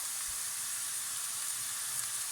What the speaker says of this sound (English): So about 3 tablespoons of soy sauce going in.